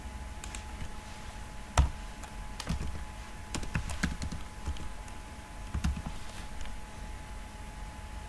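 Typing on a computer keyboard to search for a code editor extension, a sparse run of separate key clicks with a few sharper presses, close and quiet against a faint hum.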